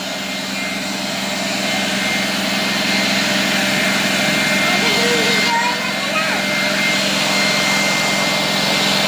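A hair dryer blows on a man's hair with a loud, steady, high-pitched whoosh that runs unbroken throughout, while a voice speaks faintly and briefly beneath it.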